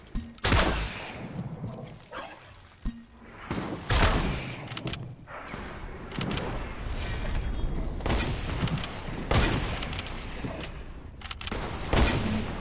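Repeated gunfire bursts from the battle royale video game Fortnite, loud and close, arriving in irregular clusters of sharp shots with brief gaps between them.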